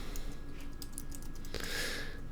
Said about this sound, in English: I can't type and speak at the same time so well.